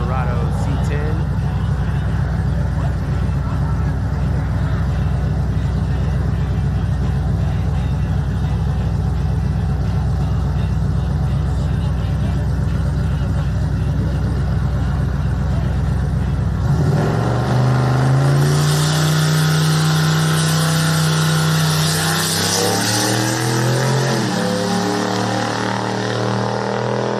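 Chevrolet Silverado C10 race truck at a track, its engine droning loudly and steadily for a long stretch before shifting into a rising, changing whine and roar. Talk runs through it.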